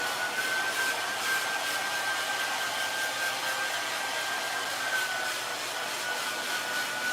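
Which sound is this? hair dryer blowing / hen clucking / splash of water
hair dryer blowing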